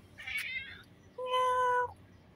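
A house cat in Kuwait meows while being fed: a brief, higher mewing call, then one long, steady, clear meow close by, with no talk over it.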